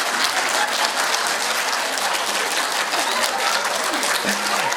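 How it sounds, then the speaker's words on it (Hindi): Sustained clapping from many hands, loud and dense, with faint voices and shouts mixed underneath toward the end. "उनके मुंह के सामने आके ताली बजा एकदम"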